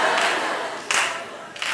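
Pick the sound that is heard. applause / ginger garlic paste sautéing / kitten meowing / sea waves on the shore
applause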